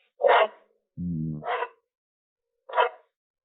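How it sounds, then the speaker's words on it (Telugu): A pet dog gives a few short sharp barks with a low growl between them, spaced apart against near silence. "ఏంటి మీ కుక్క అరుస్తుంది"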